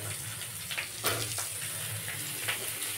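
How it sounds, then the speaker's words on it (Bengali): Potatoes go into hot oil already frying with cumin, onion and chili, making a close, steady hissing sizzle with a few louder spits. "আর এবার আলুগুলো দিয়ে দিচ্ছি"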